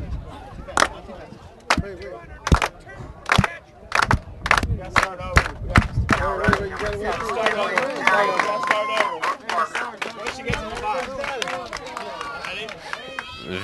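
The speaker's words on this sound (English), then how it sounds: "Vintage fans getting the clap going." Softball fans in the stands clap in a steady rhythm, sharp hand claps repeating at first, then a crowd joins in with voices and louder clapping.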